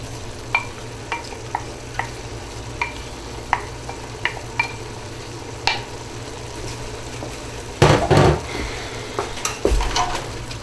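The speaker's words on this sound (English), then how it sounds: "Mixing the onions real good" Onions frying with turkey meat in a pot, a steady sizzle under regular scraping strokes of a spoon. Louder stirring and clanking come toward the end, with no talking.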